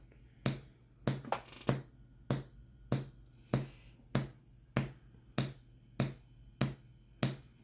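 A QCW solid state Tesla coil running on 90 V DC fires a series of short ramp bursts, about a dozen sharp, loud cracks spaced at a steady, slightly uneven rhythm, with no talking.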